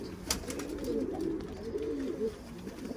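Pet pigeons in a loft coo softly in low, rolling phrases, several overlapping calls close by against a quiet background with a brief sharper noise near the start.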